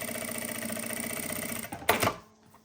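A Jack A4C-C direct-drive lockstitch sewing machine sews in reverse with an even mechanical whir, then a short rattling burst as it stops, leaving quiet.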